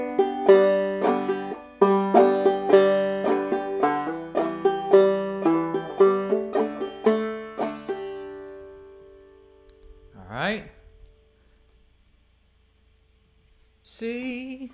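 Clawhammer banjo plays a bright, plucked phrase with steady brushed rhythm for about eight seconds, then rings out; a voice briefly speaks afterward.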